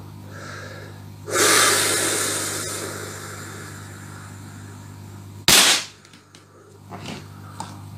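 An air rifle fires a single sharp crack up close, with Gamo or Umbrex pellets, after a rush of breathy noise and over a steady low hum, followed by small clicks.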